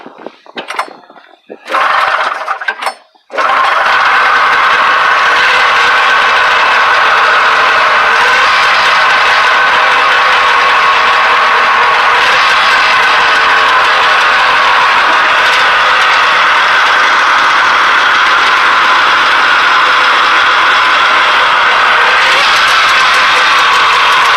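A modified vintage snowmobile fitted with a non-original, tuned motor runs steadily and loudly for over twenty seconds, a constant close engine roar following a few brief moments of talk and handling noise at the start.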